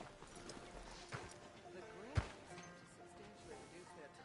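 Horse hooves clip-clop at a steady walking pace in Red Dead Redemption 2, fairly faint, with a distant ambient background.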